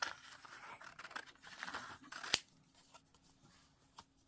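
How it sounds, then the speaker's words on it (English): Scissors cut through craft card by hand for homemade card making, a few crisp snipping and scraping strokes close up, ending in one sharp snap of the blades before quieter rustling. "I'm just going to use the scissors to show you."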